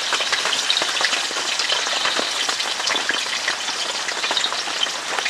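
Ginger and curry leaves frying in hot oil give a steady, dense crackling sizzle with scattered sharp pops, close and continuous throughout.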